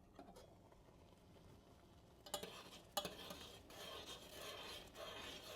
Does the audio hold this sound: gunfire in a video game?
no